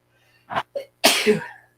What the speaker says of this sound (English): oh man, about to sneeze.